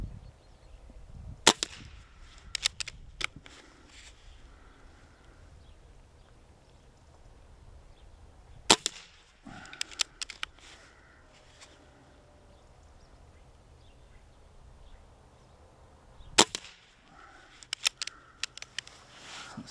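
A Stoeger XM1 air rifle fires on an outdoor range, with three sharp, isolated shots spaced several seconds apart. Each is followed by a few faint clicks and handling noises over a quiet background.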